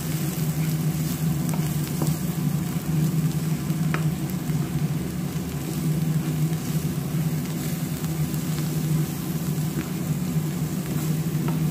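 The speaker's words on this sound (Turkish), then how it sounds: "Karıştırıyorum." A chicken stuffing mixture seasoned with Himalayan salt, meant for stuffed chicken feet, sizzles loudly and steadily in a pan as it is stirred, with a few faint scrapes rising above the constant hiss.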